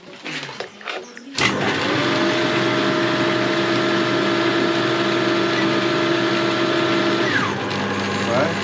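A small single-phase electric motor on an alternator repair bench starts with a sudden jump and then runs at a steady, loud, even whine with a constant hum, near and continuous, easing slightly before the end.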